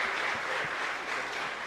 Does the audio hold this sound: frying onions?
no